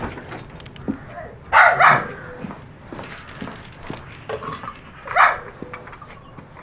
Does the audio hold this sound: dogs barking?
yes